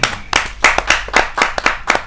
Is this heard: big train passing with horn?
no